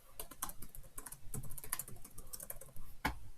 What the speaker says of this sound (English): Maybe I'll try typing.